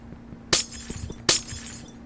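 Glass blocks shattering in a video game, two sharp breaks about three-quarters of a second apart, each a bright crash with a short tinkling tail over a low steady hum.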